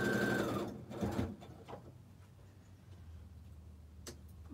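A sewing machine runs in a short burst stitching a quarter-inch seam on a quilt block, a quiet whirring that stops after under a second, followed by faint handling clicks and soft room noise.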